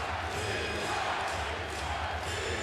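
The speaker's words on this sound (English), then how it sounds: "And the crowd into it now at Wells Fargo Center." A basketball crowd roars at the Wells Fargo Center during a Nuggets at Sixers NBA game, with a broad, sustained wash of cheering that stays loud and fairly steady, faint voices blending into the din.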